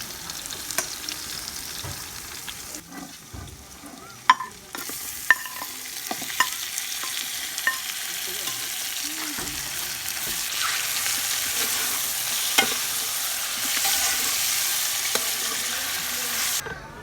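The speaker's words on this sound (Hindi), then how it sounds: "इसमें हम चिकन डाल देंगे जो मैरिनेट किया हुआ था।" Steady sizzling of marinated chicken frying with onions in a hot pan for chicken karahi, with occasional stirring clinks and scrapes throughout.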